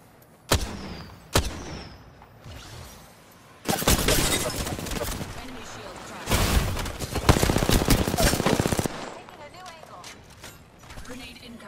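Bursts of video game gunfire with a sniper in play: two sharp single shots, then long dense volleys of rapid fire, loud and close, with a calmer stretch between and afterward.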